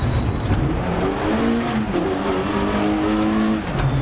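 Peugeot 205 GTI Rallye rally car in DIRT Rally 2.0 on a Polish stage, engine loud and close, revving hard through repeated gear shifts with rising and falling pitch, steady road noise underneath.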